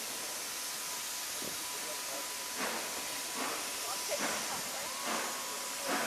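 Steady steam hiss fills the air while a few soft chuffs pulse at intervals, fairly distant and slowly building, as steam locomotive 45305 departs with a special train, struggling without a rear banking engine.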